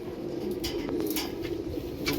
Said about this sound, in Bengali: দু পিস কালাঙ্কা পায়রা আছে।